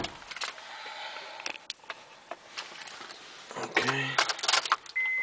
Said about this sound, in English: Let's go ahead and get started, open the moonroof.